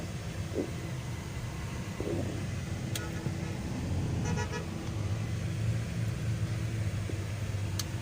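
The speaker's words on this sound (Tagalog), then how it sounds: "Traffic guys. Ayan, traffic dito eh." City traffic on Roxas Boulevard in Manila, a steady mid-level roadway hum of cars with a few short, sharp horn toots breaking through at scattered moments.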